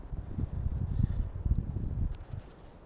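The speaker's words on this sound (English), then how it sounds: "Just got the mist and wind coming in at the minute." Cold wind gusting across an exposed wild campsite by Captain Cook's Monument, with mist blowing in: a steady low rumbling buffet against the microphone, surging and easing in uneven waves.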